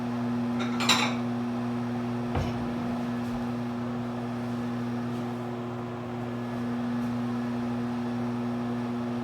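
A small plate and cutlery clink while a barbecue pork chop is plated in a kitchen, a couple of sharp ceramic knocks early, then quiet handling over a steady appliance hum.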